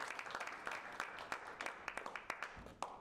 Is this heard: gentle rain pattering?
no